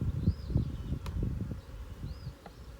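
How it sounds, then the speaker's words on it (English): Young honeybees crowd a hive frame holding pollen, nectar, brood and swarm queen cells, giving a close, low, continuous buzz with soft rustling and small knocks throughout. "So this frame's got a lot of young bees on it."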